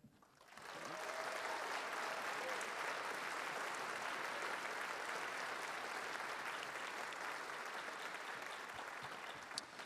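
A large audience claps steadily and warmly, a dense wash of applause that swells in quickly and holds at an even level without fading.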